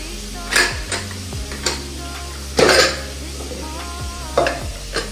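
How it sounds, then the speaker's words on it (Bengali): Chicken stir-fried in spice masala in a home kitchen pan, steady sizzling broken by sharp spatula scrapes and metallic clinks against the pot, with a low hum underneath and no talking. "এখন চিকেনটা দিয়ে কষছি"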